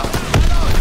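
Gunfire in the video game Call of Duty WW2: a short, loud burst of cracking shots that ends in a heavier blast, close and punchy.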